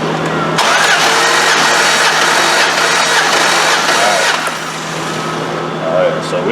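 A Dodge 4.7 engine cranks steadily during a wet compression test, a loud, continuous rhythmic churning of the starter that runs for several seconds and then eases off.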